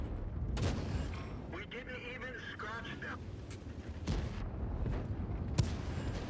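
An artillery tracking shot fired in World of Tanks, a few broadband booms and cracks standing out over busy battle noise and engine rumble, with voices heard now and then.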